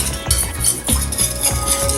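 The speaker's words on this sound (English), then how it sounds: "Give this a good stir." Cornstarch and honey are stirred together in a bowl, with repeated close scraping strokes and faint clinks of the utensil against the bowl, heard alone at a steady rhythm.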